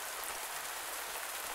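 Steady rain falling in the farming video game Pumpkin Days, a dense, even hiss of drops on surfaces that continues unbroken at moderate level with no voices.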